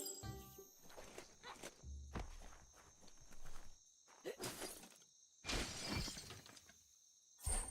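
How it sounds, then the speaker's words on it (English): A wooden box being smashed apart in the game Biomutant: a series of sharp cracking and shattering hits with splintering debris, irregular and close, with the loudest breaks toward the end. "You shouldn't worry about smashing up the box"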